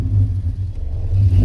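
A 2008 Ford Mustang 4.0 V6 with an idle chop mod, a loud close low rumbling engine with an uneven, loping idle and slight revving swells throughout, no voices.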